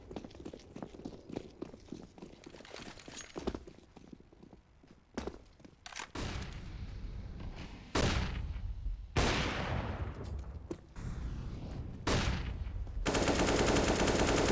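Rapid automatic gunfire sprays in bursts during a competitive shooter esports match, with dense crackling volleys, footsteps between them and a sustained loud barrage at the end.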